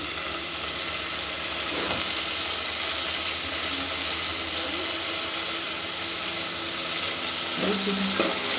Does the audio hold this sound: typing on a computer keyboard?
no